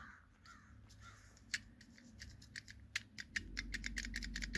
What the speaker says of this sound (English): So the valve goes up and down. You can hear that.